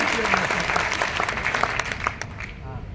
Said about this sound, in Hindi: अब इन्हीं हाथों को तालियों में तब्दील कर दें